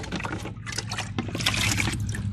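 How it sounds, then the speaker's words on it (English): Water trickles and splashes steadily as it is poured from a bucket into tomato planting holes, a continuous liquid gurgle with brief breaks, fairly quiet and close. "add a little bit of water to each hole"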